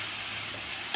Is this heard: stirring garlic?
yes